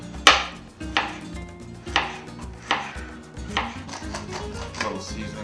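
A knife chops ginger into slivers on a board, making about six or seven crisp, distinct chops at a fairly even rhythm, close and moderately loud, with faint kitchen clatter between strokes.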